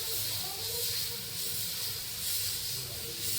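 Chakuli pitha, an Odia rice pancake, has its batter cooking on a hot pan, giving a continuous close hiss of steam and sizzling that swells and eases gently without a break.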